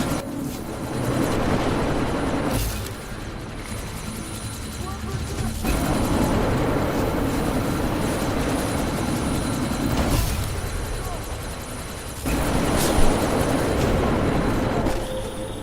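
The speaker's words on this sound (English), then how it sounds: "That chopper's about to take off!" Helicopter rotor and engine drone from the Deus Ex: Mankind Divided video game, a steady loud whir with periodic shifts, heard beneath shouted voices and gunfire-like bursts in a combat scene.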